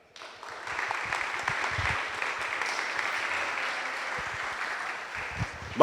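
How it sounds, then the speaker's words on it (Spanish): A crowd at a cybersecurity meetup applauds to welcome a speaker, dense sustained clapping that swells quickly after a quiet start and holds steady, moderately loud, with a few lower knocks underneath. "recibámoslo con un fuerte aplauso"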